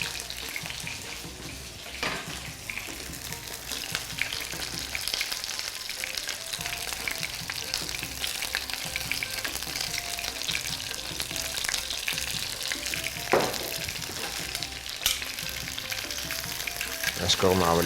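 Food for garlic soup frying in a pan, a continuous close crackling sizzle with occasional scrapes and clinks as pieces are turned, steady and moderately loud.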